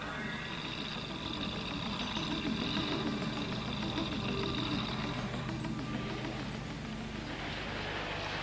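A Land Rover engine runs and idles after a water crossing, forcing water out of its exhaust, giving a steady, fairly faint, rough mechanical rumble throughout with no talk.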